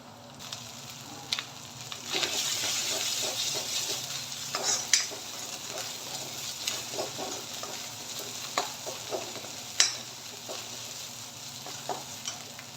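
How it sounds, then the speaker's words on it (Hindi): Ginger garlic paste frying in a pan for a brinjal masala curry, continuous sizzle with repeated scraping stirs and occasional spoon knocks against the pan, close and steady, no one speaking. "इसको 2 से 3 मिनट फ्राई कर लेते हैं अच्छा से।"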